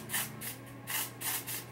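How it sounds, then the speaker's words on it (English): Dior Air Flash foundation is sprayed onto a beauty blender in several quiet hissing bursts, evenly spaced and close. "I'm gonna spray this directly onto the beauty blender."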